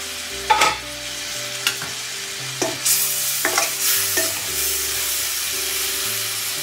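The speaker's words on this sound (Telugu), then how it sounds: "మగ్గడం కోసం కొద్దిగా ఆయిల్ వేసుకుని మగ్గించుకోండి" Onions and tomatoes softening in a little oil in a pan, with steady sizzling and hiss broken by several scraping stirs of a spoon, close and fairly loud.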